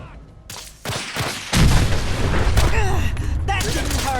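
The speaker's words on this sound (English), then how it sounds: "Grenade!" A grenade blast in Fallout 4 rips out after scattered shots, followed by a loud continuous roar of explosion and gunfire, with voices shouting over the din.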